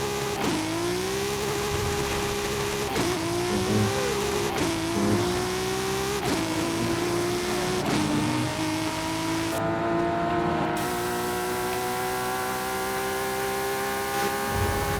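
A Toyota Supra accelerates hard through several gear changes, its engine note repeatedly climbing and dropping at each shift, loud and continuous from close by with no talking.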